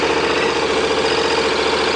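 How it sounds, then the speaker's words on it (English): A 2015 KTM 1190 Adventure R motorcycle engine idles close by with a steady, even, low throbbing rumble and no voices. "So we'll crank the bike up."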